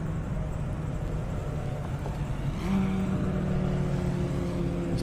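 Jeep Trackhawk and Dodge Hellcat launching side by side in a half-mile airstrip drag race, a loud sustained engine roar that steps up in pitch and intensity partway through as the cars accelerate away.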